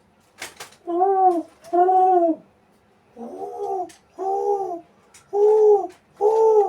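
A human voice imitates an owl hooting in a Karagiozis shadow-theatre scene, giving a series of hoarse, cooing two-part calls separated by short pauses, close and clear.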